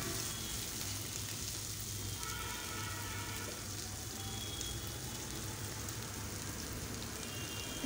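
Dried fish (sidol) frying in a pan with ginger and garlic paste: a steady, even hiss of sizzling that holds at a constant level, fairly soft and without speech.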